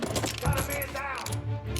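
Gun reloading in the Mafia video game, a brief run of metallic clicks and mechanical ratcheting amid busy combat noise, with a voice partly audible.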